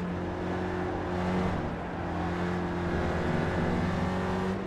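An SRF race car at the Brands Hatch GP circuit in iRacing: steady droning engine with strong harmonic whine, a brief dip as the throttle lifts, then a return to a constant high drone, loud and close with no talk.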